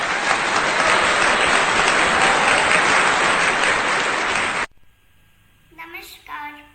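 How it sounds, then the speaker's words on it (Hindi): An audience at a Janmashtami poetry gathering breaks into loud, dense applause welcoming a performer to the stage; it holds steady for several seconds, then cuts off sharply, leaving near-quiet and a brief voice. "जोरदार तालियों से स्वागत कीजिए प्रेक्षा डॉन परी का"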